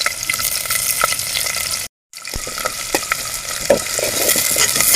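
Onion pieces, chopped green chillies, coriander, curry leaves and mint fry in oil for a village-style mutton curry cooked over a wood fire, a loud close sizzle with stirring scrapes and a brief silent gap.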